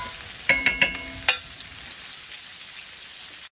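Onions cooking down in a pan over medium-high heat, a soft steady sizzle with a few sharp clinks of a utensil early on, then fading to near silence at the end.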